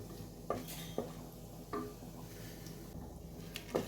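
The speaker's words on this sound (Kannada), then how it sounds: "ಫ್ರೈ ಆಗತೈತಿ ನೋಡ್ರಿ" Whole spices (cloves, bay leaves and fennel) fry in oil in a pan for egg biryani, giving a steady low sizzle broken by a few sharp utensil knocks against the pan.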